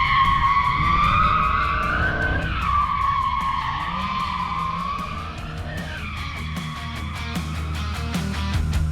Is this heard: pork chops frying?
no